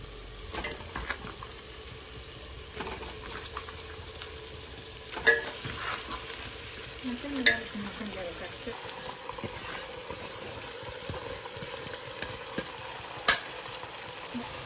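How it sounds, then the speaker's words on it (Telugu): Marinated goat head curry being stirred and fried in a pan with tempering, giving a steady broadband sizzle with scraping strokes and a few sharper clanks over about fifteen seconds, with a voice faintly present. "ఇలా వేసిన తర్వాత ఇదంతా పోపు మొత్తం పట్టేలాగా కలుపుకోవాలి అడుగు భాగం వరకు"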